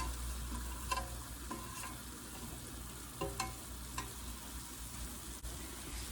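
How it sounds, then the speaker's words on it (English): Onion and leeks frying in a pan for a chicken okra gumbo, a steady close sizzle with intermittent scraping stirs and light clinks, no talking. "I'm just going to let that onion cook down just a little bit, and I'm going to add the leeks."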